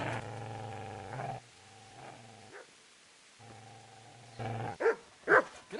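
A dog growls and snarls in a medieval game, Kingdom Come: Deliverance, with drawn-out throaty growls followed by a few sharp, loud barks and snaps near the end of the attack.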